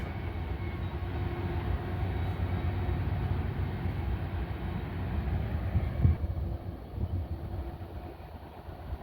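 Low, continuous rumble of several locomotives rolling past, drowning out an idling switcher, a steady heavy drone with engine hum, fairly distant and unbroken.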